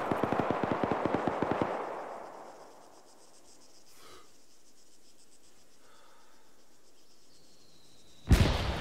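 Rapid automatic gunfire in the military game Arma 3, a fast rhythmic burst of close shots for the first couple of seconds that decays into a long echoing rumble, with a faint distant crack midway and another loud blast at the end.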